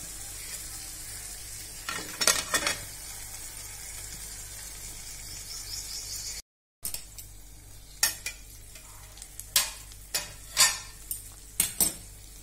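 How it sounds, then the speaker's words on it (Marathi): Masala for stuffed brinjal sautéed in oil, with a steady sizzle and scraping stirs from a spatula and pan clinks recurring through it, plus a brief gap midway and sharper metallic taps near the end. "आता छान परतूया आपण, जोपर्यंत मसाला तेल सोडत नाही तोपर्यंत परतूया।"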